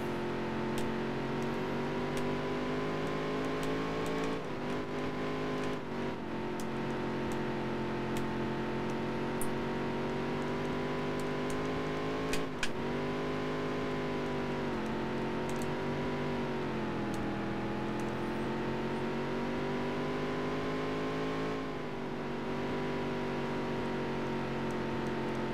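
A race car engine in the Dirt to Daytona racing game drones steadily and loudly, its pitch dipping and climbing through corners in an unbroken run.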